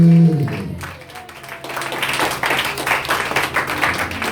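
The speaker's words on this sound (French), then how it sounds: "Acclamez le Seigneur Jésus" A church congregation applauding and acclaiming Jesus, with steady rapid clapping from a crowd that builds after an opening voice and continues, fairly loud and dense.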